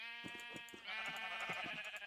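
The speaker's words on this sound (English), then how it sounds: "These sheep are loud in my ears." Sheep in the video game Minecraft bleating in a quick series of wavering, nasal calls, several overlapping and close, loud and clear with nothing else under them.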